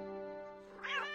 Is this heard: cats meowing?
yes